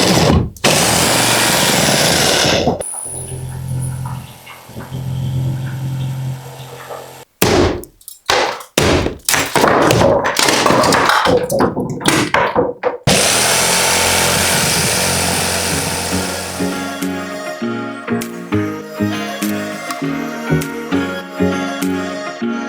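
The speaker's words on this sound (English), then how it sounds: "All I'm really trying to do is cut along the stud, so I'll be able to see if I'm getting off." A power saw cutting along a wall stud in an old abandoned general store, loud and close, with long grinding cuts broken by stops and restarts, then a stretch of rapid rhythmic chattering strokes.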